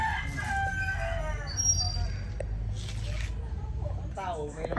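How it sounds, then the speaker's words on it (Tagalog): A rooster crows in the background while people chat nearby, with faint bird calls mixed in. "Oh, ayan may manok sila."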